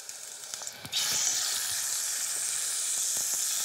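Veal chops hit a very hot frying pan, a sudden loud sizzle bursting in after a few quiet kitchen knocks and holding steady and close to the end.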